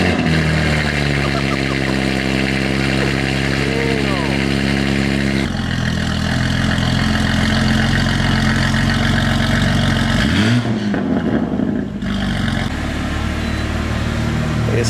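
A BMW G80 M3 fitted with catless downpipes idles loud and close, then its engine revs up sharply, drops back, and rumbles again with a raspy exhaust tone.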